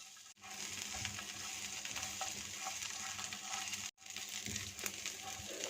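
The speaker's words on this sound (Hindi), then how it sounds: "तो ये ऑयल में फ्राई करने से इसका फ्लेवर आएगा" Dry fruits frying in oil for a sweet dessert, a steady close sizzle with light stirring scrapes and small clinks, briefly cut by two short drops to silence.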